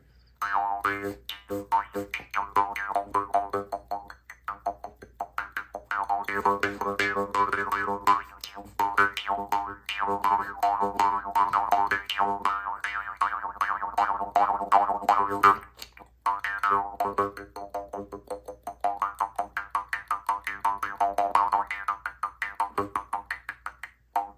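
A Mongolian jew's harp twangs in quick, repeated percussive plucks, its buzzing resonant tone shifting in pitch over a steady low drone, played fairly close with no talk.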